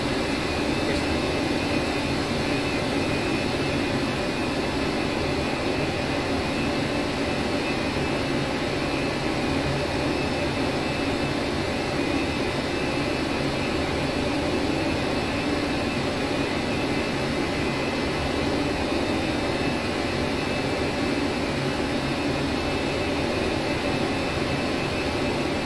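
A flight-simulator aircraft engine during its takeoff roll, a steady, loud jet-like roar and broadband rush that holds evenly throughout with no speech.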